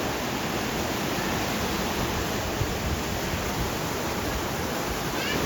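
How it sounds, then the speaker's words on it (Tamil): Waterfall at the Sita Devi temple in Ashok Vatika, Nuwara Eliya, Sri Lanka, a constant broadband rush of falling water, close and steady, with no voices over it. "இங்கே ஒரு அழகான ஒரு அருவி ஒன்று போயிட்டு இருக்கு"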